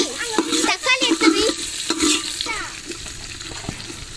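Tomatoes fry and are stirred in a pan, with soft sizzling and scraping strokes of a spoon, while faint voices and high chatter come through in the background.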